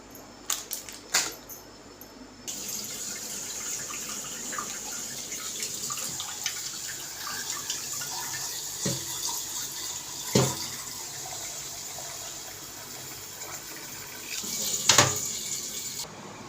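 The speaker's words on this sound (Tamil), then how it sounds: "நல்லா மீனை க்ளீன் பண்ணி அலசி வச்சாச்சு" Fish is rinsed under a running kitchen tap, a steady close splashing rush of water with a few knocks and clatters of handling scattered through and no talking.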